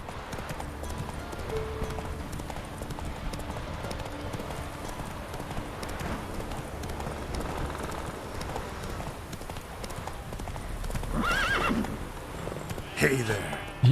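Geralt's horse Roach in The Witcher 3 gallops with steady clip-clop hoofbeats and lets out neighs and whinnies, close and clear, with someone speaking over the top at times.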